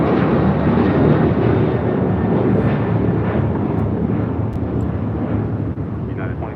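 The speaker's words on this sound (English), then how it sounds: "This is United Airlines 1029 taking off to Denver, Colorado on a 737-900 ER." United Airlines Boeing 737-900ER taking off from LAX bound for Denver, a loud, rumbling jet roar with wind buffeting that slowly fades as the aircraft climbs away.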